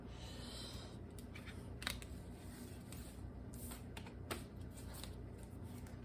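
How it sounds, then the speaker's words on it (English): Tarot cards being shuffled by hand, soft papery riffles and taps close by, quiet and intermittent over a low background hum. "Let me just shuffle the tarot cards a little bit more here."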